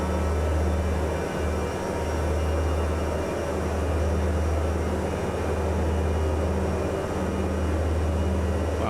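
Engine of a low-flying, cruising light aircraft in Microsoft Flight Simulator 2024: a loud, steady droning hum with a constant low tone, unbroken throughout and with no voices.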